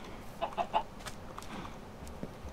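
Chickens clucking in a video game world, a few short clucks close together early on, then fainter background game sounds with no talk.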